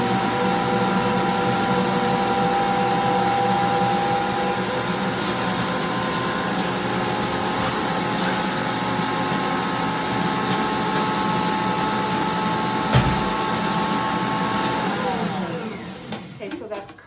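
A kitchen mixer creams brown sugar and butter for chocolate chip cookie dough under a lid, its motor whirring loud and steady up close before winding down and stopping near the end.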